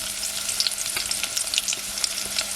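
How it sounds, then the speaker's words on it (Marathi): Onion sizzling in hot oil with garlic, cooked over a wood-fired mud stove, a dense crackling fry with frequent small pops and stirring, close and steady, no talking. "तेल मस्त तापलं आहे लसूण कसे थोडीशी लालसर झाली की लगेच कांदा टाकायचा"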